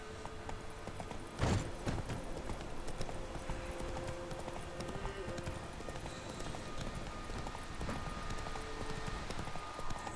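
Geralt's horse Roach gallops in The Witcher 3, hooves clip-clopping in a steady rapid rhythm, close and fairly loud over game ambience, with one sharp louder thud early on.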